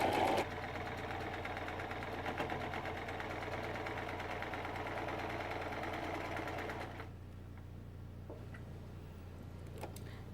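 A sewing machine stitching salwar fabric at home runs at a steady, fast mechanical whir and clatter for about seven seconds, then stops, leaving faint ticks and handling sounds.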